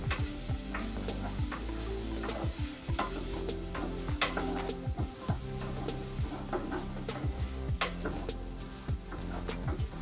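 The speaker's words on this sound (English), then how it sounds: "I'm gonna go ahead and mix that rice in with the garlic." A wooden spoon stirs rice and garlic in a pot, producing repeated scraping and clacking strokes over a soft sizzle, close and rhythmic throughout, with no voices.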